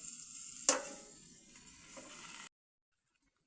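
A large tilapia fish cooks in a pan with a steady, close sizzle and a sharp clatter near the start, before the sound cuts off abruptly to near silence.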